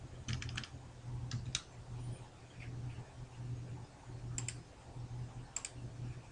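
Fingers tap quietly on a computer keyboard while lines of code are copied and pasted. The clicks come in short, scattered bursts over a steady low hum.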